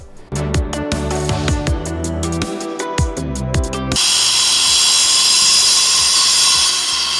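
An angle grinder cuts during a small house renovation: several short, sharp, resonant strikes or bursts of grinding give way to a loud, continuous, hissing whine at close range.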